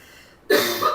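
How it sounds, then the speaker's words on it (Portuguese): A single sharp cough breaks out after a brief quiet, close and fairly loud, with a short rasping tail. "Quer tossir?"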